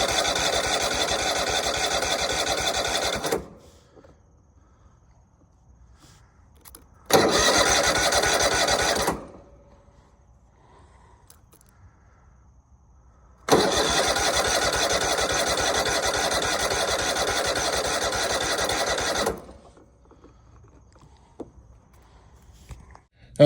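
Engine of a new Troy-Bilt 46-inch zero-turn riding mower on its first start, running loud and steady in three bursts separated by silent gaps as it is started and shut off repeatedly.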